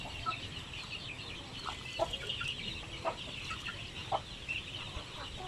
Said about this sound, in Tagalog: saka natin ipakain sa ating mga manok